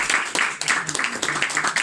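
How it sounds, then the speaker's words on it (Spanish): Audience clapping for Alejandro Concha, a poet visiting from Lota, at a poetry gathering at La Esquina Rosada: a dense, steady burst of hand claps from a nearby crowd, lasting throughout. "así que también fuerte el aplauso para él"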